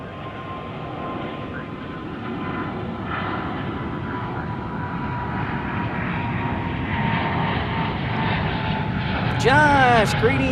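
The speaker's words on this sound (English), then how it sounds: "Listen to those engines." Jet airliner engines roar at DFW airport as a departing plane spools up, a loud, steady rumble that builds toward the end, with a voice talking over it.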